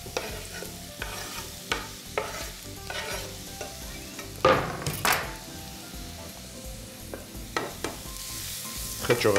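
Food sizzles in a heated pan, a continuous frying hiss broken by repeated scraping stirs and a few sharper clatters of a utensil against the pan, close and fairly loud.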